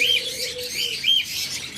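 Red-eyed budgerigars chatter in a steady stream of bright, overlapping chirps and warbles, close and fairly loud, with no voices.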